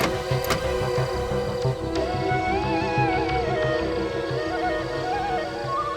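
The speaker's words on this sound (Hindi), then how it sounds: "ये तो बांसुरी की आवाज है।" A flute plays a wandering melody at night in a forest, the clear wavering tones drifting over a steady dark background with soft rhythmic low pulses beneath, no talking.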